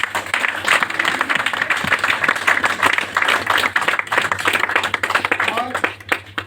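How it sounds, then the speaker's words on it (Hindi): Loud, dense audience applause from a crowd at a company event, steady rapid clapping that fills the whole stretch and thins slightly toward the end. "एक जोरदार ताली"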